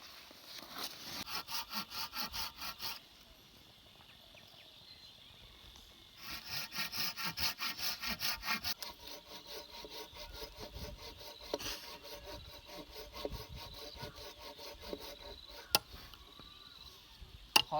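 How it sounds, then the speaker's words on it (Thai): Wood is sawn by hand with a handsaw while building a pig pen at a farm plot. Steady rhythmic strokes come in bursts, separated by pauses, with faint insect chirping behind. "คอยเลื่อยเอง"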